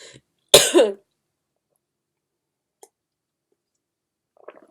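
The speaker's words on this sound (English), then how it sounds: "I had a coughing attack" A single harsh cough bursts out close to the microphone, followed by near silence with a couple of tiny clicks and a faint breathy sound.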